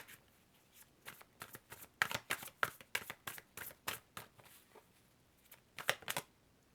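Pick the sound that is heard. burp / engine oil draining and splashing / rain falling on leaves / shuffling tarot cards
shuffling tarot cards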